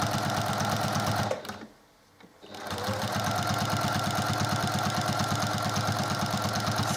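A sewing machine quilts straight lines with a walking foot, a loud, close, rhythmic mechanical chatter that pauses briefly for about a second, then resumes at a steady pace.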